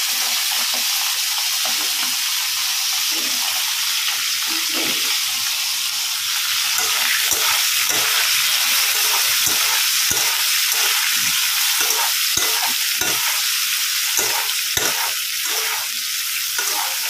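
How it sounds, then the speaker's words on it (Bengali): Cauliflower frying in hot oil, a steady broadband sizzle with repeated clinks and scrapes of stirring, close and continuous throughout. "চলো, তেল গরম হয়ে গেছে, এবার আমি ফুলকপিটা ভাজতে বসিয়ে দিই"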